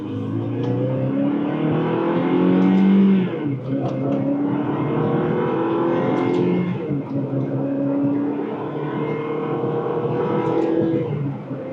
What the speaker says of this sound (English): My foot's on the gas, I'm in first gear.